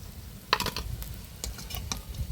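Khesari dal fritters fry in oil in a wok, a steady close sizzle with a few scraping stirs and utensil clicks, and no one speaks.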